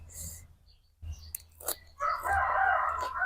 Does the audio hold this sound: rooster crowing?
yes